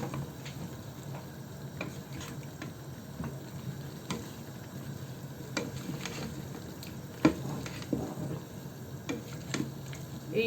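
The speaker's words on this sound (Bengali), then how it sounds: "তো এটাকে ভালোভাবে নাড়া দিয়ে দেব" Frozen tomatoes being stirred into a fish and cauliflower curry in a pan, with soft scraping and clicking of a spoon over a low, steady sizzle, close and fairly quiet throughout.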